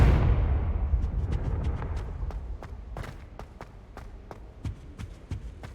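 Confringo fire spell cast in Hogwarts Legacy, opening with a loud booming blast that rumbles and fades, followed by a series of sharp, evenly spaced cracking impacts trailing off in the background.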